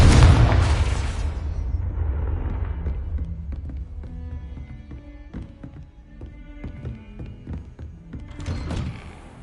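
A Confringo blasting spell in the game Hogwarts Legacy fires with a loud booming explosion at the start, followed by a rumbling decay, scattered thuds and taps, and a second lighter burst near the end.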